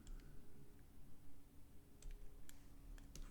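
A few faint, sharp computer mouse clicks made while the control key is held during 3D modeling work, sparse and isolated over a quiet room hum.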